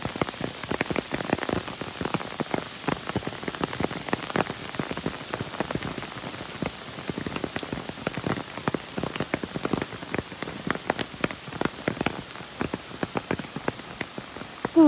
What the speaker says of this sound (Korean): 빗줄기가 더욱 거세집니다.